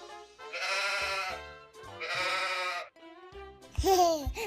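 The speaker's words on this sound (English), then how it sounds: "Sheep" A sheep bleats three times, long wavering cries, the last one louder and rising, close and clear with no talk over it.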